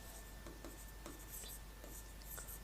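Chalk or marker writing on a board during a chemistry lecture, a few quiet scratchy strokes in short bursts over a low steady background hum.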